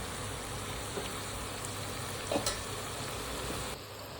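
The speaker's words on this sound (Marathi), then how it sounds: "आता त्याला पण तळून घेऊया पाहू शकता भजीचा आपला कलर किती छान झालेला आहे मस्त तळत आलेले आहेत भजी" Onion-greens fritters (bhaji) frying in hot oil, giving a steady, close sizzle with soft crackle throughout and a brief louder bubbling burst midway, with no talk.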